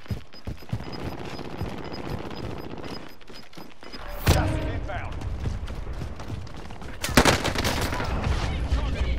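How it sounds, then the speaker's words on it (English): Gunfire during a Call of Duty match, sharp shots and bursts ringing out loudly with a couple of heavy blasts, under ongoing game sounds and player chatter. "I'm getting shot from behind."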